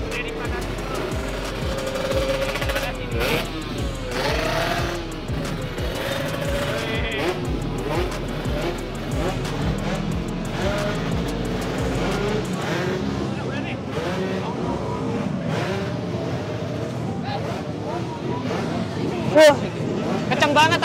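Honda Gyro and Vespa scooters accelerate hard in a drag race, their engines droning loudly and rising in pitch for a long stretch while people talk and shout nearby.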